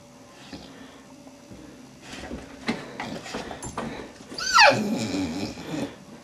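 A dog whimpering and whining eagerly for a bone held in front of it, with soft rising whines that build to a louder, higher cry near the end, close by with shuffling movement and no talk.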